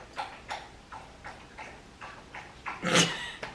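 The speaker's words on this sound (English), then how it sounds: "Now we have a dog slurping water." A dog slurps water with a steady series of about eight close, wet lapping strokes, roughly twice per second, ending in a louder splashy gulp.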